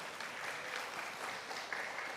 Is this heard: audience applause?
yes